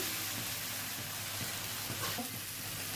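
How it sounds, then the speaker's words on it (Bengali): Spices for jackfruit biryani stir-fry in oil, a faint, continuous sizzle with occasional soft stirring scrapes, fairly quiet and unbroken for a few seconds, with no talking. "এবার একটু কষিয়ে নিই"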